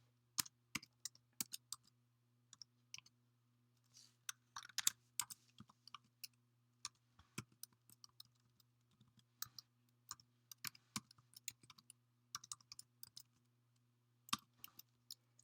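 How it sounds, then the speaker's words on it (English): A username being typed on a computer keyboard: scattered quiet key clicks in irregular bursts with pauses, over a faint steady hum, nobody speaking. "So you're going to type in your username."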